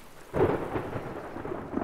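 A low rumble of thunder in the video game DayZ rolls in over steady rain, building suddenly and then lingering as a dull murmur.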